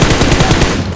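Rapid automatic gunfire in PUBG on the Miramar desert map, a loud close burst of evenly spaced shots that cuts off abruptly near the end.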